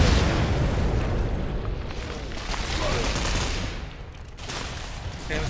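A grenade detonates in a Tom Clancy's tactical shooter match, a loud booming burst followed by rumbling debris and scattered gunfire, with the noise swelling and fading over several seconds.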